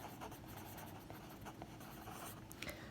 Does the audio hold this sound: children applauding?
no